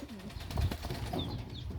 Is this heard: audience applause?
no